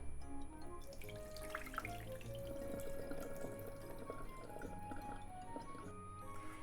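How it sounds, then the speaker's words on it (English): Water splashes and swirls in a bowl as grains are rinsed, a steady close-up sloshing with faint dripping and no talking. "Let's rinse the rice."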